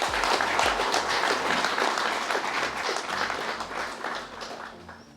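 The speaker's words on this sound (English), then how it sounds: "give yourselves a round of applause" Audience at a national cocoa awards ceremony breaks into steady, full applause that gradually thins and fades toward the end.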